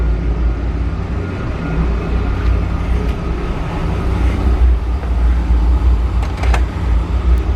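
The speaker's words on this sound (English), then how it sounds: "This old motor's probably just about wore out" An old, worn-out, slightly smoky vehicle engine idles steadily and loudly up close, a continuous low rumble with a few faint clicks on top.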